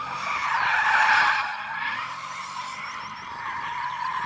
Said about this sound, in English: I need to warm my tyres like you just warmed yours